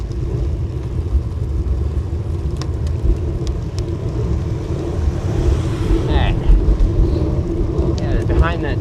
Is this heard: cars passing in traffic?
yes